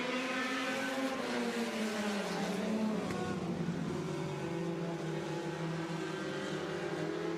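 Dirt racing cars roar around Smoky Mountain Speedway in a front-wheel-drive feature, engines droning steadily and loudly as a pack runs nose-to-tail, with a continuous layered engine hum throughout.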